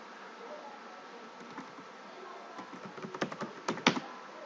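Keys tapped on a computer keyboard while entering a database command, soft scattered clicks that grow louder and quicker toward the end, close and alone.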